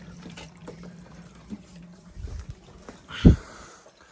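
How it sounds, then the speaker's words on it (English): Faint trickling water in a clogged kitchen sink drain pipe, then a brief gurgling splash near the end, close by with no talking. "You can actually hear"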